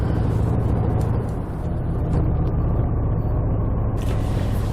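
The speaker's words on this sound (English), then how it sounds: "so we've caught the rush hour traffic" Rush hour road traffic heard from a motorcycle on the road, a continuous loud low engine and tyre rumble with passing vehicle whooshes and no talk.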